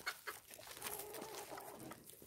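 Chickens in a backyard coop clucking faintly at a distance over steady outdoor background noise, with no talk.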